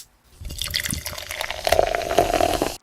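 A Coca-Cola sound logo plays as a fizzing poured drink, a bright splashing, bubbling pour that builds over a couple of seconds, heard close and alone.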